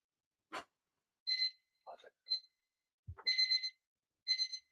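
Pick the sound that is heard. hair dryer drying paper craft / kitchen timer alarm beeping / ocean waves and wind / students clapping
kitchen timer alarm beeping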